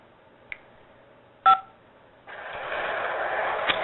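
Telephone keypad tones sound in an automated collect-call system: a faint short beep, then a louder two-tone press, followed by a steady hissing line tone with a brief click near the end.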